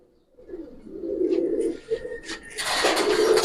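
Giribaz pigeons in a loft coo in a burst of low, rolling calls, followed by a loud, broad rustling noise near the end.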